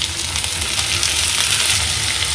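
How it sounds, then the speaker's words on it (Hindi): Tomatoes dropped into oil with frying chickpea masala and green chillies set up a steady, dense sizzle that holds close and even throughout, with no voices. "बस इसे हल्का सा फ्राई करने के बाद हम इसके अंदर डाल देते हैं टोमेटोज।"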